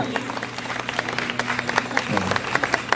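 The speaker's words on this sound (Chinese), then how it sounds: "好，鼓掌" An audience at the Hualien Amis music festival claps steadily. The applause is dense and continuous, with someone speaking over it through a microphone.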